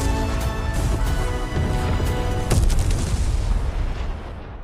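A gas pipe bursts into a film explosion: a dense, roaring wall of sound with a sharp, heavy blast near the middle, then a rumbling tail under a full soundtrack mix.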